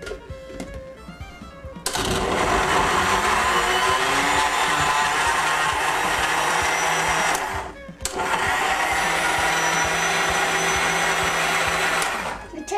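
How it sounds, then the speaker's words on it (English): A kitchen blender grinds raw potatoes with salt and an egg for latkes, a loud steady whirring roar running about six seconds, stopping briefly, then starting again close up. "I'm ready to start the blender."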